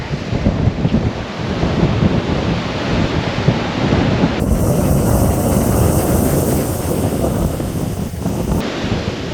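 Rough Mediterranean surf off Barcelona pounds the shore while strong wind buffets the microphone, making a loud, continuous rushing roar with rolling swells.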